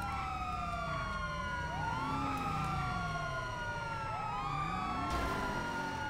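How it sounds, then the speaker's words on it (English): A police car siren wails from a GTA V game scene, continuous and overlapping rising-and-falling tones over low engine rumble, with no talk over it. "We're gonna kill our siren since we're not primary."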